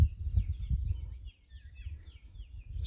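Birds chirp and tweet in quick, scattered calls across quiet morning countryside on the rural Triacastela to Sarria walking route, fairly distant and faint over a low rumble of movement nearby.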